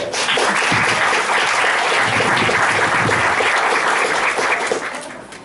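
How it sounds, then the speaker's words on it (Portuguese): Steady, dense applause from an audience at a panel debate marking a national day of struggle for people with disabilities, holding loud and even throughout and easing slightly at the end. "Palmas."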